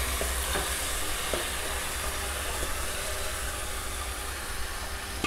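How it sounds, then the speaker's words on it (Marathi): Pieces of mutton go into hot oil with a roasted spice masala and are stirred in a pan. A soft, constant sizzle runs under faint scraping and clinks from the stirring, and nobody speaks. "हे चांगलं मटण मी या तेलावरती असं परतून घेणार आहे."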